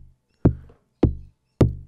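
Buchla modular synthesizer pendulum ratchet set to division A, clocked through a 210e setup: three sharp, knock-like percussive hits, each decaying quickly, evenly spaced about half a second apart and loud against silence.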